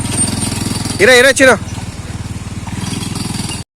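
An ATV quad bike ridden slowly at a resort gives off a close, throbbing engine chug with an even pulsing beat, briefly overlaid by a voice speaking, before cutting off abruptly.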